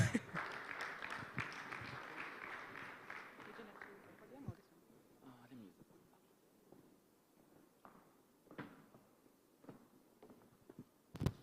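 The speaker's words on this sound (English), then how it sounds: "please clap harder." Audience applause in a room during a startup pitch day, a dense burst of clapping for about four seconds that fades into quiet room ambience with scattered thumps and brief noises.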